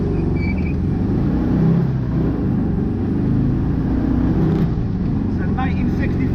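A 1965 air-cooled Volkswagen Beetle accelerates hard, its engine giving a loud, continuous low rumble from inside the car, with a voice heard faintly toward the end.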